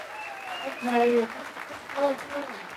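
Audience applause welcoming speaker Jim Ellis, a broad steady clapping wash with some voices mixed in, rising and falling over a few seconds.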